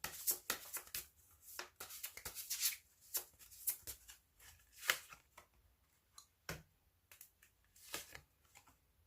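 Tarot cards shuffled by hand before a draw, a steady run of crisp riffling and sliding bursts that repeat in quick irregular pulses, close and fairly quiet, with no talking.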